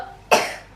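A single sharp, close cough bursts out in a children's pretend doctor skit, loud and then trailing off quickly.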